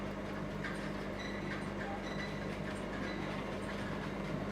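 A video-game train rolls along the rails with a steady, quiet rumble and faint rhythmic clicking throughout.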